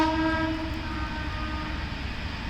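A train rumbles steadily along a nearby railway line, sounding a horn with harmonic tones at the start that fade into a continuous low roll of wheels on track.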